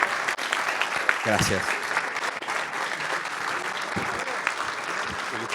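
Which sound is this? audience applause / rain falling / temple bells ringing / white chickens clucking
audience applause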